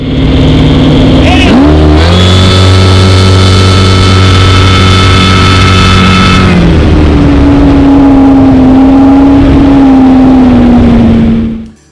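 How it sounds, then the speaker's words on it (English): A jet boat runs at high speed across a lake, its engine roaring loud and close with a sustained drone and shifting tones, then settling into a steady whine with rushing wind. "boat, blasting across the lake with the wind rush and the adrenaline rush that's going on"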